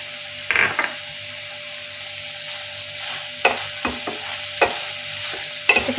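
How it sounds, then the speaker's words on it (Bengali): A homemade tofu dish with spring onion greens and ground pepper being stirred in a pan over soft sizzling, with a few sharp scrapes and clacks of the utensil spaced out, close and fairly loud. "এটা ভালো করে মিক্স করি।"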